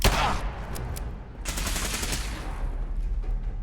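Gunners open fire in the video game Fallout 4, loud bursts of automatic gunfire crackling in rapid rounds after a sharp opening shot, dense and close, with no voices over it.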